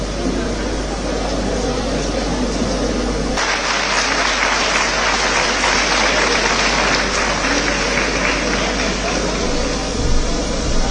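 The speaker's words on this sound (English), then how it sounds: "a big round of applause" Sustained applause from a large audience at an annual event in a convention hall, a loud continuous wash of clapping over a steady low hum, with no one speaking over it.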